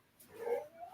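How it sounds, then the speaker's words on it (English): A pet dog gives a single short, faint bark-like yelp from across a quiet indoor room. "my dog decided to start barking"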